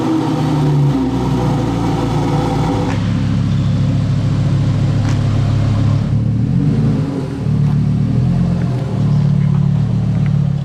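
A Lamborghini Huracan STO's V10 engine idles and revs low as it is driven slowly into a trailer, a loud, close, continuous rumble with slight throttle swells and no talk.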